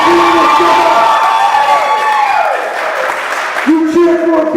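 Crowd at an NWA Mountain State wrestling show cheering and shouting, loud and close, a dense wash of voices with whoops and bits of applause.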